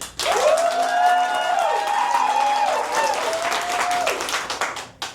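A theatre audience applauds to vote for the Grinch in a live show: loud, dense clapping fills the room for about five seconds, with a long whooping cheer riding over it before the applause fades.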